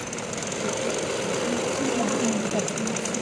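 Sewing machine stitching a joint between two cloth pieces, a steady rapid mechanical whirr running throughout, with a voice speaking over it.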